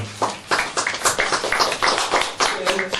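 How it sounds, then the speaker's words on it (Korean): People at a traditional Korean coming-of-age ceremony clap in a short run of distinct hand claps, close and moderately loud, with some room noise and faint voices mixed in. "큰 박수로 축하해 주시면 감사하겠습니다"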